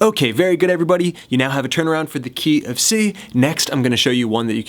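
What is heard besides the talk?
No everyday noise stands out behind the speech.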